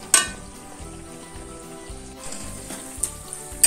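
Coriander powder frying in a pan, a faint steady sizzle under background music, with a couple of brief louder bursts.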